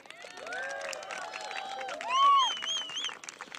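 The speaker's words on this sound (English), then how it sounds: "huge round of applause for these 7 girls" Crowd at a tournament final breaks into applause, steady clapping mixed with high whoops and squealing cheers that swell around the middle and carry on for several seconds.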